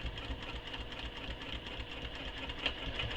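A sewing machine stitches a fabric quiver sling with a fast, even mechanical whir and rapid needle clatter that runs steadily from start to finish at moderate volume.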